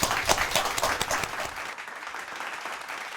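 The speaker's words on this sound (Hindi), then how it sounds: "एक बार जोरदार तालियों से इनको आप आमंत्रित करें।" An audience claps and applauds, a dense patter of many hands that is loudest at first and thins out over a few seconds.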